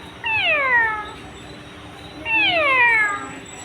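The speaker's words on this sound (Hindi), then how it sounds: "बिल्ली कहाँ है?" A cat meows twice at close range, each a drawn-out, falling cry, with a pause of about a second between them and a quiet room hum underneath.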